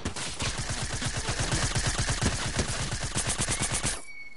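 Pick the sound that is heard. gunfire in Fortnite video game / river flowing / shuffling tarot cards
gunfire in Fortnite video game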